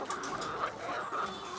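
Backyard BV380 hens clucking close by, a steady stream of soft overlapping clucks and calls with no talk.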